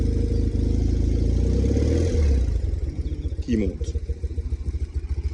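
BMW R90S Silver Smoke flat-twin motorcycle engine idling then revving up, a steady loud throb rising in pitch with a few sharp blips near the end, a voice talking briefly over it.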